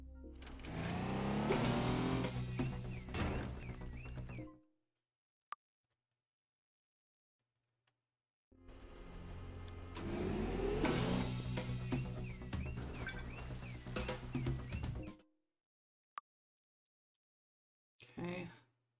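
A car in the game Teardown revs loudly as the accelerator is held, a dense roaring engine in two long bursts with silent gaps between them and brief clicks.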